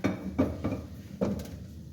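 A spatula clanks against a pan while caramelized milk is mixed in for khoya barfi, giving four or five distinct, fairly close metallic knocks spread unevenly over a couple of seconds.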